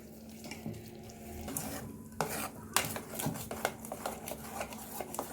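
Wheat cake batter stirred in a bowl with a fork or spoon, giving close scraping and clinking strokes of utensil against the bowl in an uneven rhythm, with no talk.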